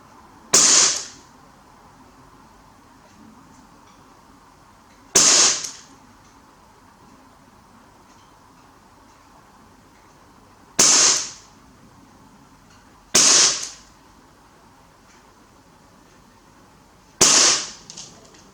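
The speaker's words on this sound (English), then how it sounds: "most of those shots were pretty much aimed in or around the centre ring at the time of pulling the trigger" Five sharp shots from a Novritsch SSP-1 airsoft sniper rifle aimed at a target, evenly spaced several seconds apart, each a crisp close crack with quiet pauses between.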